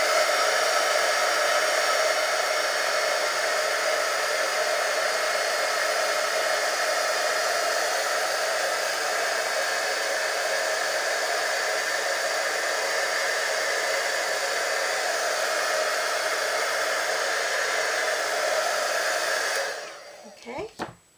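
A heat tool blows a steady, loud whoosh over a card to melt embossing powder, running continuously for about twenty seconds before cutting off with a couple of brief clunks near the end.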